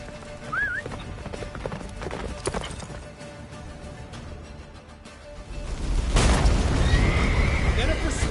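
Roach, Geralt's horse in The Witcher 3 on PS5, whinnies sharply and gallops with rapid clip-clop hoofbeats, joined later by loud rushing wind and game effects.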